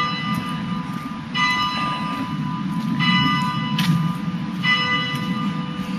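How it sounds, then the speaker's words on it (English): Church bells of St Mary's and All Saints, the Crooked Spire in Chesterfield, ring out in repeated strikes with sustained ringing tones over a steady outdoor background, no talking. "here we go. Bells."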